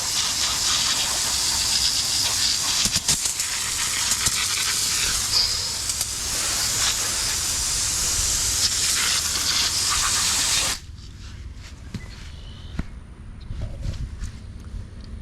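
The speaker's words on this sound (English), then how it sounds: "So we will spray down the solar panel." A loud, steady hiss of water spraying onto a 180-watt solar panel for about ten seconds, then cutting off abruptly, leaving faint drips and handling sounds.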